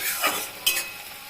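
Onion frying in a pan before shrimp goes in for shola taro greens, a short soft sizzle with two brief stirring scrapes, close and fairly quiet, no voices.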